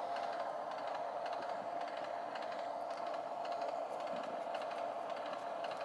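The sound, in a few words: Acela Express train accelerating in video game Trainz Simulator 2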